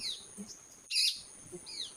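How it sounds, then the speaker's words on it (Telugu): Parrots calling near a small temple in Chintakani: several sharp chirps and squawks spread across two seconds, one louder burst in the middle, heard fairly close over quiet outdoor background. "చిలుకలు ఉన్నాయి"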